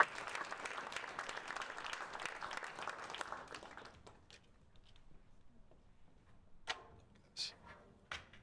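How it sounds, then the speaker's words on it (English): A burst of applause from a hackathon crowd for a few seconds, then it fades into a quiet room with scattered claps and small knocks. "let's give them a round of applause"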